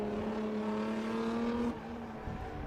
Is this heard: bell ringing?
no